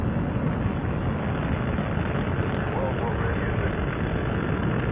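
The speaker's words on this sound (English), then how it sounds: "Booster ignition and liftoff of Space Shuttle Endeavour on a 21st century mission" The Space Shuttle Endeavour's booster ignition and liftoff produce a dense, loud, continuous roar across the whole clip, steady and unbroken with no rise or fall.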